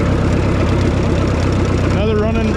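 A tractor engine runs steadily at close range with a dense low rumble, and a higher whine or squeal rises and wavers near the end.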